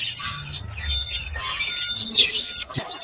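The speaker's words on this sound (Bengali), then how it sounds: "এই যে আরেক পেয়ার ককাটেল আছে" Cockatiels and other pet birds chirping in a bird shop, sharp high tweets and squawks in short bursts, fairly close, with faint voices in the background.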